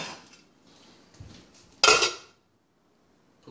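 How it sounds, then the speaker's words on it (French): A lid clanks down onto a cooking pot in a home kitchen while making mac and cheese, one short bright metallic clatter close by after quiet rustling, then silence. "Là, il faut qu'on mette un couvercle."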